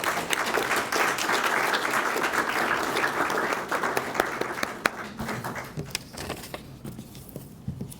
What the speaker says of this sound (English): I just wanted to give these individuals a round of applause